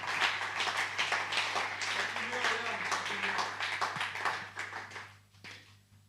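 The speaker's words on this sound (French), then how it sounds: "Franchement, je crois qu'on peut l'applaudir" Audience applause at an evening gathering, a dense wash of clapping hands that runs steadily for several seconds, then thins and fades out toward the end.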